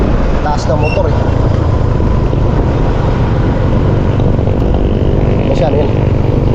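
A motorcycle engine revs steadily while riding, a constant droning hum with voices talking over it throughout.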